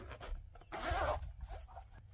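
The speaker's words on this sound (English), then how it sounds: "So it zips out here" Zipper on a fly rod travel case from a Pescador on the Fly Econ 101 combo being pulled open, a single continuous rasping run that is close and fairly loud, followed by a few softer brief zip scrapes.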